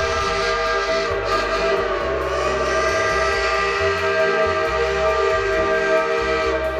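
A loud, sustained three-chime Lunkenheimer steam whistle on Cass Scenic Railroad locomotive number 4, blowing steadily, a rich mournful chord held throughout with no voices.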